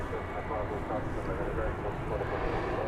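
An airplane moving at Dallas Fort Worth airport gives a steady broad engine roar that holds level and fairly loud throughout, with no talk.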